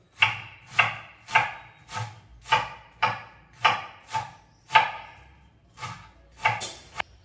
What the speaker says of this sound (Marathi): कोथिंबीर पण एकदम बारीक बारीक अशी चॉप करून घ्यायची